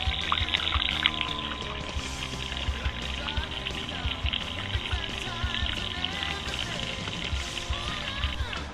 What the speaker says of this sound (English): I removed both drain plugs and got good water, good clean water coming out of both the main fuel tube and the reserve.